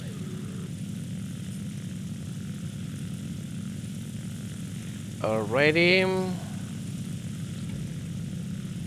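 A propeller aircraft engine in the flight combat game War Thunder drones steadily throughout at moderate volume, with a brief rising whine partway through; someone speaks briefly.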